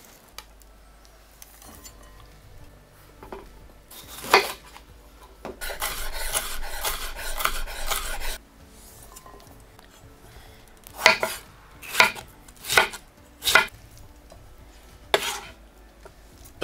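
A knife finely chops bell pepper, a peeled tomato and red onion on a board for a pork mince filling. A quiet stretch of rasping, scraping cuts is followed by several separate, distinct chopping strikes, with no talk.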